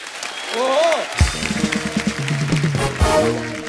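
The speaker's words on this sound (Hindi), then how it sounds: "और इस लड़की के लिए जोरदार तालियां" A studio audience at a Hindi comedy talk show breaks into applause, a crowd clapping under a host's speech and laughter, clapping rising beneath the talking and continuing behind it.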